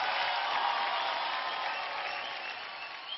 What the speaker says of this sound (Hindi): जोरदार तालियां अंशुमन के लिए